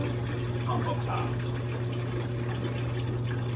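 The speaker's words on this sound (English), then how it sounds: "I'm gonna hit that pump again to flush out the remaining sanitizer water that's in the pump up top." The pump of a Taylor C712 machine runs with a steady hum while sanitizer water gushes and flows through it, a continuous, close, even wash of liquid.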